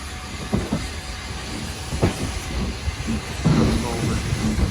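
A two-coach train rumbles away from a station with a steady low roll, soft hissing and a few faint clacks, heard at a moderate distance with no talk.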